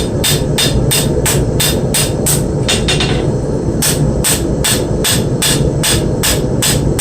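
Knife blade bevels being ground at low heat on a flat grinder: a loud steady machine drone with a rapid, regular tapping that repeats about twice a second, close and unbroken.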